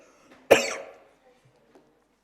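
One sharp cough comes right after drinking water, close and abrupt, then trails off into near silence with only a couple of tiny faint clicks after it.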